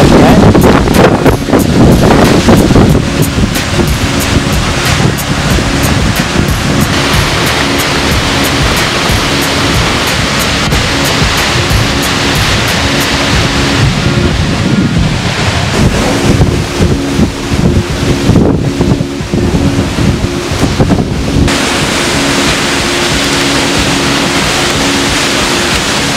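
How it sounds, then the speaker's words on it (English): Roaring Icelandic waterfall heard from a path running behind the falling water, a steady loud broadband rush with heavy wind buffeting the microphone throughout. "We're walking right behind through there, right behind this waterfall."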